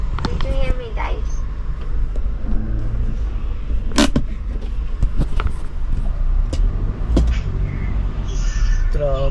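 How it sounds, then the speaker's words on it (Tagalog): Continuous road traffic rumble from cars and other motor vehicles in slow, congested traffic, steady and fairly loud throughout, with a few brief thuds and people talking over it. "Traffic."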